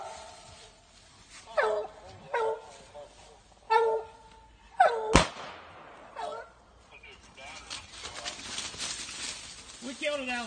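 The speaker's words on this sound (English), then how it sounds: "Grab that dog if you get to it." A hunting dog barks outdoors in short, loud, spaced bursts, with a sharp crack midway and quieter barks and rustling after, while people talk in the background.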